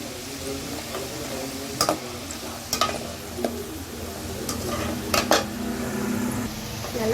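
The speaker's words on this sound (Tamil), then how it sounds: "அது நல்லா ரெட்டிஷ் ப்ரௌன் கலர் வர வரைக்கும் வதக்கிக்கிட்டே இருங்க" A pan of seedai dough sautéed and stirred until reddish brown, with a low sizzle under a few sharp metal clinks of a spoon against the pan.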